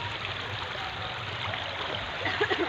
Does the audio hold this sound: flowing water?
yes